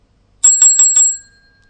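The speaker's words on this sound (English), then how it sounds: "I'll ring the bell" Bicycle bell rung to close a podcast section, four quick bright metallic dings in a fast even rhythm, loud and close, then a short ringing decay into silence.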